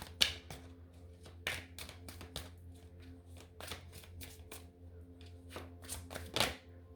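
Tarot cards being shuffled by hand in a quiet room, a run of soft riffling flicks and slaps with a few sharper snaps, close and fairly quiet, with no talking.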